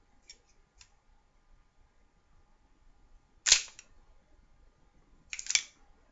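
An airsoft gun's mechanism makes a few sharp mechanical clicks, faint ones early and two louder, crisp snaps later, close and isolated against near silence.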